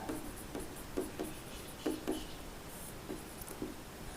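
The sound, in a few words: writing on paper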